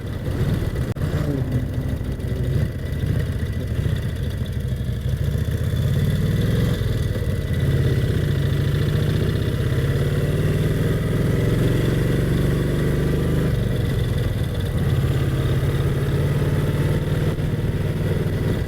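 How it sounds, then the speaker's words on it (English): A Brough Superior SS80 V-twin motorcycle engine runs steadily with a low, even rumble, idling smoothly and continuously at close range with no voices. "this bike as the quietest V-twin on the market, and it is very refined"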